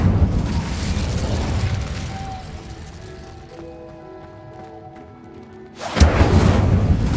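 An Incendio fire spell cast in Hogwarts Legacy, heard as a sudden loud fiery burst near the end that follows a quieter stretch of game ambience and stays as a dense roar.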